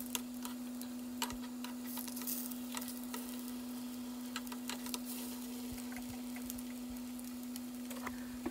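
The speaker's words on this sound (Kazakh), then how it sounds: "Осы майда сырникилеріміздің екі бетіне де бірдей етіп, осылай қызартып, кезек-кезек ауыстырып," Syrniki frying in oil in a pan, a quiet, faint sizzle with scattered small crackles and ticks over a steady hum, nobody speaking.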